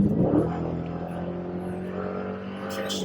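A car with a 392 engine accelerating hard on a home stretch, a loud engine roar that swells at first then holds a steady drone, with no talking over it.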